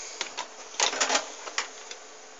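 An Xbox 360 external disc drive ejects a disc with a run of quiet mechanical clicks and whirring ticks. A denser burst sits in the middle, and the sound is close and fairly faint.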